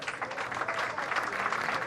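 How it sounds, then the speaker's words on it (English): A crowd at a senior bowling tournament applauds with steady, dense clapping that holds at an even level throughout. "Crowd gives him an applause."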